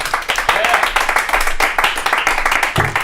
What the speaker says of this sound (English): give a round of applause for Conor Cawley